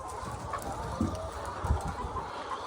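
Laying hens on a poultry farm cluck softly and intermittently over a steady background hum, with a couple of louder short clucks close by.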